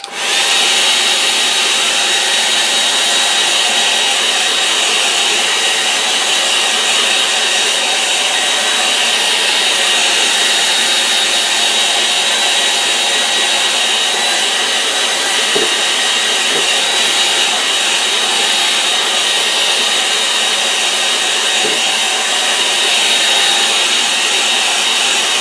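A hair dryer blows steadily on an acrylic painting of a simple woodland scene, giving a loud, continuous airy whir and hiss that runs unbroken throughout, with no talking.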